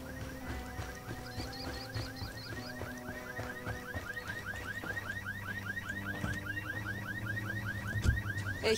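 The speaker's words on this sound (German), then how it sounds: "da ist die Alarmanlage an" A car alarm in Ghost Recon Wildlands wails in a repeating rising siren pattern, fairly faint and steady over the game's background noise, with no one talking.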